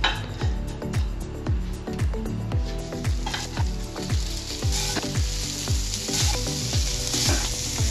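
Asparagus fries in a pan on a stovetop with a steady, close sizzle, punctuated by regular rhythmic scraping and clinking as it is stirred, no voices.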